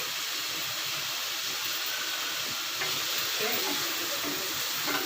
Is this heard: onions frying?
yes